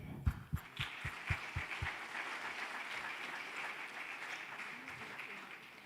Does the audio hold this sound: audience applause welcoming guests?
yes